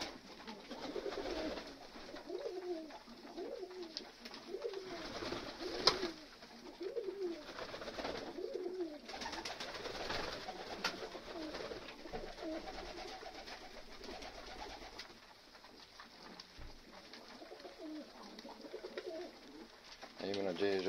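Black short-beaked pigeons coo steadily while feeding in a loft, a soft repeated rolling murmur from several birds nearby, with someone talking at times over it.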